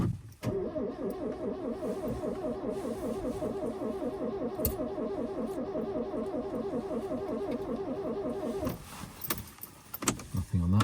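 A 1973 Citroen DS D Super 5 engine cranks with a rhythmic, steady churning for about eight seconds, then catches and settles to a running idle, close and loud with no talking.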